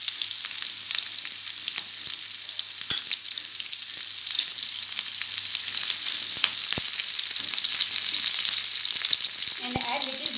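Onions and red chilies fry in hot oil for an egg gravy, giving a steady, loud, bright sizzle that runs throughout with occasional small pops and crackles.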